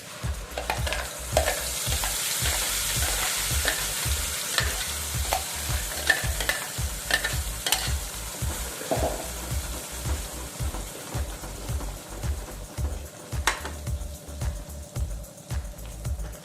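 Gravy is poured into hot oil already holding cumin and asafoetida and stirred steadily. A spoon scrapes the pan in a regular rhythm over a continuous sizzle, and the sizzle softens toward the end. No one speaks.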